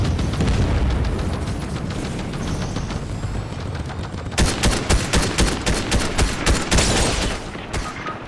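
Rapid gunfire and booming explosions from a Fortnite match, dense and continuous, with a louder burst of repeated shots in the second half.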